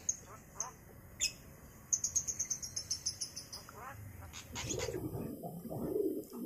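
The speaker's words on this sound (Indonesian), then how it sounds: "Nih jalaknya nih, jinak tapi agak galak." Starlings, including Bali starlings, in a large house-sized aviary give a quick run of repeated chirps amid other bird calls, with someone talking and a louder, busier stretch near the end.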